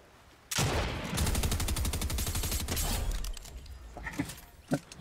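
Rapid automatic gunfire from a Fortnite match rattles in a dense burst for a couple of seconds, then thins to a few scattered shots and clicks.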